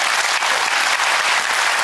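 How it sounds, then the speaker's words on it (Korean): Audience at a Korean national elders' church retreat closing service claps steadily, a dense, even wash of many hands, loud and close throughout with no break. "박수 한번 부탁드립니다."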